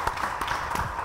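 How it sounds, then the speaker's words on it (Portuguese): Brief burst of crowd applause at a rap debate event, steady moderate clapping with a few sharper claps standing out. "Uma salva de palmas, por favor."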